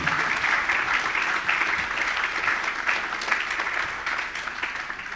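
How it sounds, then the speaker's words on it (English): Sustained applause from a conference audience at a security talk, a steady dense crackle of many hands clapping at moderate loudness throughout, slowly easing toward the end. "Round of applause"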